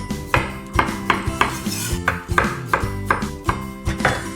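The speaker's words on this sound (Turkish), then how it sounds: "Gördüğünüz gibi gayet hızlı bir şekilde patateslerimizi doğradık." A knife slices potatoes on a cutting board, quick regular knocks about twice per second, close and clear with no talking.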